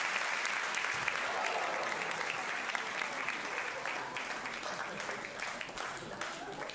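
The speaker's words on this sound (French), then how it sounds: "On peut applaudir Laetitia, les amis, s'il vous plaît." Audience at a comedy show applauding warmly, steady close clapping from a full room that continues throughout with a slight taper at the end.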